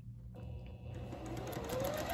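A Juki 2000Qi sewing machine stitching, with a steady mechanical whir that starts abruptly and runs continuously at close range, rising slightly in pitch toward the end.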